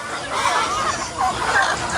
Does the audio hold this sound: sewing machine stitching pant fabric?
no